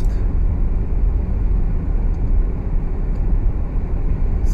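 A 2015 Jeep Cherokee Trailhawk driving on the road, heard as a continuous low rumble of engine and road noise, steady and loud from start to finish.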